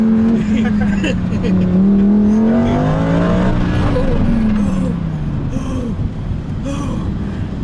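A 2015 Lamborghini Huracan LP 610-4 accelerating on a race track, heard from inside the car. The loud engine drone rises and falls in pitch and fades toward the end while people exclaim and talk over it.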